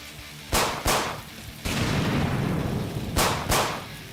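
A grenade explosion in a video game comes as a loud burst, with several sharp blasts in quick pairs. A heavier rumbling boom with a lingering tail follows, then two more close blasts.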